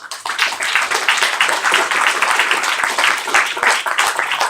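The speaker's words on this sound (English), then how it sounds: "give a round of applause to all of the candidates and thank them for being here" A crowd applauds the candidates at a Libertarian presidential debate: dense, steady clapping from many hands fills the room throughout, loud and continuous without a break.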